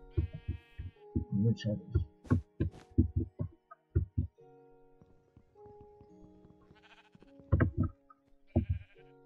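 In a modded video game, sheep give short bleats between quick, punchy thuds from attacks, with brief quiet stretches and a person speaking now and then.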